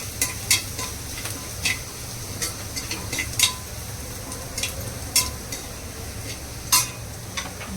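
Barnyard millet (bhagar) dry-roasting in a pan, a low steady hiss punctuated by sharp, irregular scrapes and clinks of a spoon stirring against the metal, close and alone.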